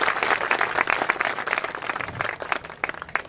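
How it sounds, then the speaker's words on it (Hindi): A crowd gives loud, vigorous applause at the opening ceremony of a BioCoal factory in Mohan Badodiya, many hands clapping at once in a thick burst that thins slightly toward the end. "गुरुदेव के लिए एक बार सभी जोरदार तालियां बजाएंगे।"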